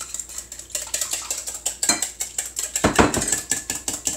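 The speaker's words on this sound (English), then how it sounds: "All right, and we'll whisk that." A whisk beats chocolate banana muffin batter in a bowl, making a fast, steady series of close metallic clicks and scrapes against the sides.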